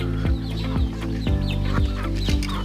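Free-range native chickens clucking in an open farm setting, a close, loud series of rhythmic clucks repeating about every half second over a steady background noise, with no talking.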